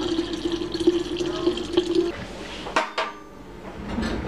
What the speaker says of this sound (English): Pour it in the jar.